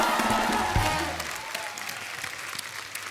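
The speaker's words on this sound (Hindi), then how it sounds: "एक बार गुलशन जी के तालियां हो जाए यार" A studio audience on a comedy talk show applauds for actor Gulshan Grover, a brief burst of clapping that fades over about three seconds.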